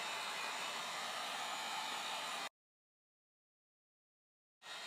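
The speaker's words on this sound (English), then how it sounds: "So I'm going to turn on my heat gun. I've got it on medium, and I'm going to just start warming this up." A heat gun set to medium blows a loud, steady, close airflow hiss, cuts off abruptly into silence for about two seconds, then switches back on, used to warm a VW Golf Mk4 GTI headlight.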